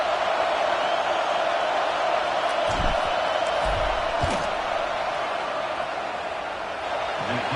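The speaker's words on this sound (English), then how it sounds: "This crowd trying to do its part to get inside the kicker's head." A packed football stadium crowd roars steadily during a field goal try, a dense, loud wall of noise with a few sharper shouts and bursts rising out of it.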